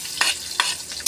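Onions and garlic sizzle in a hot pan for adobo, with two sharp spatula scrapes breaking through a constant frying hiss, close and brief.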